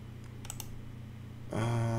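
Quick keyboard typing, a short burst of light clicks close by that ends as a loud electronic tone starts.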